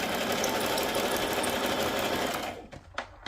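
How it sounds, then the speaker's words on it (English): A sewing machine runs steadily in a continuous whir doing zigzag stitching, then the motor slows and stops in short bursts near the end. "just running this through my sewing machine, doing a simple zigzag stitch"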